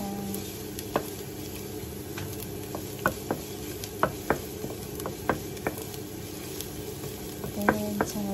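Garlic sautés in a hot pan for ginisang monggo, a soft continuous sizzle broken by repeated light scrapes and clinks of a utensil stirring, close and without voices.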